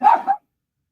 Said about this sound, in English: Apologies if you hear Pablo barking away